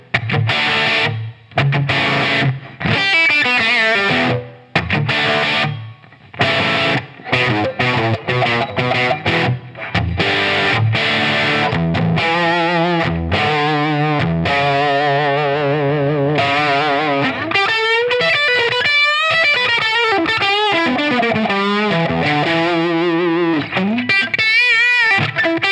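Loud, heavily distorted electric guitar tone from a Line 6 Helix with final EQ and strong compression, playing chugging riffs and ringing chords that give way to sustained lead notes, with no talking.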